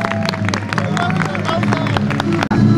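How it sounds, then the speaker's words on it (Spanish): Applause from dance group members at a folk dance festival, loud close clapping mixed with crowd chatter and cheering, sustained throughout with a brief dip near the end. "Y que se escuche el aplauso de los integrantes,"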